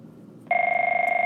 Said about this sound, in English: that's the phone, so give me a second